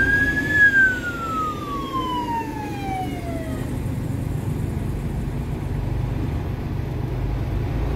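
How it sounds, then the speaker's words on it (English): A fire truck siren sounds once and falls in pitch as it passes and fades, leaving a steady low rumble of highway traffic on Interstate 270 near the Illinois–Missouri state line. "here comes four more fire trucks"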